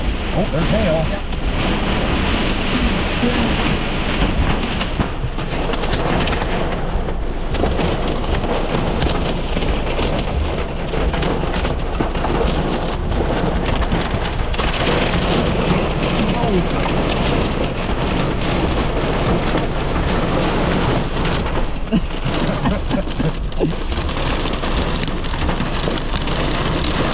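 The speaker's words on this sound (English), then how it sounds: "Oh, there's hail." Heavy rain and hail pour down during a severe thunderstorm near Fennimore, Wisconsin, a dense continuous drumming and pattering on the surface all around, loud and steady throughout.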